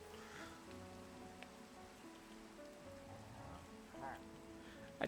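Rain falls in the video game Minecraft, a steady soft hiss of raindrops under background game music, with a faint voice speaking in the background.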